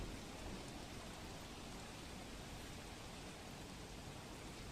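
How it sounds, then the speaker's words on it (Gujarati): Heavy monsoon rain pours down in Vaghai, Dang district, Gujarat, a steady dense hiss with no break, faint in level and with no voices. "વઘઈ સહિતના વિસ્તારોમાં કઈ રીતે વરસાદ વરસી રહ્યો છે, આ દ્રશ્યોમાં આપ જુઓ"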